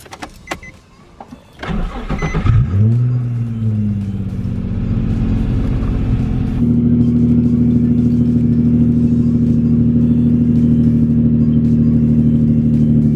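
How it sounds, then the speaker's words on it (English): A Nissan 350Z cranks and fires on a cold start after sitting a week, the starter whirring briefly before the engine catches with a surge, then settles into a loud, steady high idle heard from inside the car. "Time for pretty extreme cold start."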